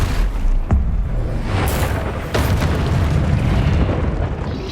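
A Confringo fire spell bursts in Hogwarts Legacy, a loud, dense explosive roar with sharp cracks and booms layered over continuous battle noise.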